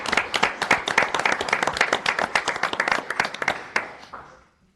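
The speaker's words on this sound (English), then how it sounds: "let's give them another round of applause" Applause at a city environment committee meeting: a room of people claps steadily for about four seconds, then the clapping thins out and fades away.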